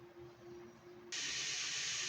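Water coming to a boil in a pressure cooker pot set up for steaming thatte idli, a low tonal hum giving way halfway through to a loud, steady steam hiss that runs to the end.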